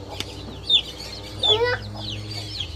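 Chickens cluck close by, several short fowl calls in two brief bursts over a quiet farmyard background.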